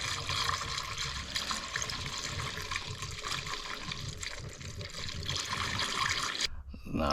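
Coolant pours into the engine of a Jeep Cherokee KL 3.2 during a serpentine belt job, a steady close gurgling and splashing liquid flow that continues for several seconds before briefly cutting out.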